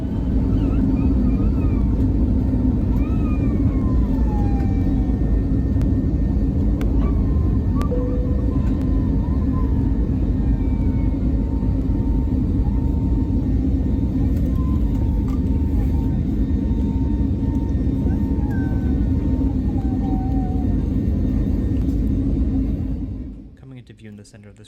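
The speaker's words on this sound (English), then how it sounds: "the plane picked up speed very quickly" Steady, loud low-frequency rumble of a Sky Express A320neo cabin under engine power during the climb after takeoff, droning continuously for the whole stretch before cutting off abruptly at the end.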